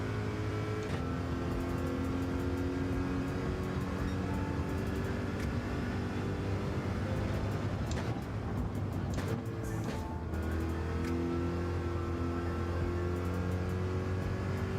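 Race car engine in Gran Turismo 7, a continuous loud whine that climbs and drops through gear changes, easing off briefly midway before building again, no talking.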